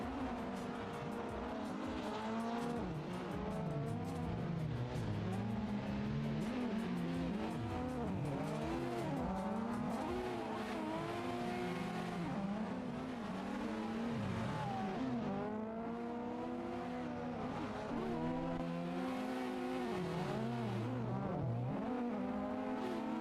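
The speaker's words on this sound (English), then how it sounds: "Kim, I've used my handbrake." Car drifting with handbrake in Assetto Corsa, a continuous loud engine roar that rises and falls in pitch with repeated revving and tire squeal throughout, with no talk.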